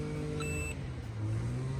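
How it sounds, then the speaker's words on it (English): A 2020 Peterbilt truck's alarm gives a single short electronic beep when armed via remote app, heard over a steady low engine idle hum with no talking. "the alarm is armed, and right now the alarm is armed"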